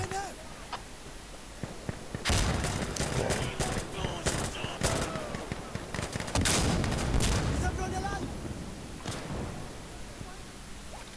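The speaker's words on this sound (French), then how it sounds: "c'est une grenade" Grenade blasts and gunfire in the video game Insurgency Sandstorm: scattered shots, then two loud, broad explosive bursts with rumbling tails, a player talking throughout.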